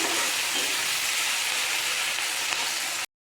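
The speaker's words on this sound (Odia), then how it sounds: "ପିଆଜ ଏଠି ଟିକେ ରେଡ୍ କଲର୍ ହେବା ଯାଏଁ ତାକୁ ଭାଜିବି" Sliced onions frying in hot oil with bay leaves and caramelized sugar for a home-style Odia fish curry, giving a steady, loud, close sizzle that holds evenly throughout and then cuts off abruptly.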